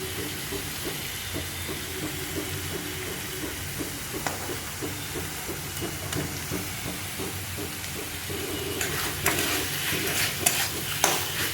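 Mushrooms fry with spices in a pan, giving a soft continuous sizzle with scraping stirring noises that grow busier and louder toward the end.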